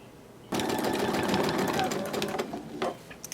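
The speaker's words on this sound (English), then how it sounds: "Now you're going to repeat it, and you're going to do the stitching in this direction." A sewing machine runs steadily and close by, stitching back and forth to mend a ripped belt loop on a pair of jeans, a loud continuous whir that slows and stutters near the end.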